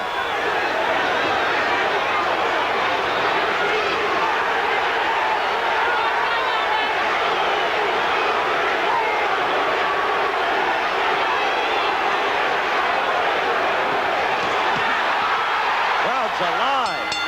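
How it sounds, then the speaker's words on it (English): A boxing crowd roars steadily through the Larry Holmes vs Gerry Cooney heavyweight fight, a loud continuous wall of cheering and chatter with a commentator's voice over it. "Crowd's alive."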